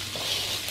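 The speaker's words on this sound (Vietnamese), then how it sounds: "Mình chiên cho nó thơm nha." Chopped shallots fry in about a spoonful of cooking oil in a pan, giving a brief, steady, close sizzling hiss with no voices.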